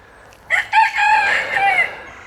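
A rooster crows once outdoors, a loud, close, drawn-out cock-a-doodle-doo lasting about two seconds over faint background hiss, with no talking.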